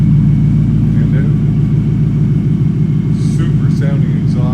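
A 2004 Ford Mustang GT convertible with a Vortech supercharger idles close by, its exhaust giving a loud, steady, deep rumble that continues throughout the clip.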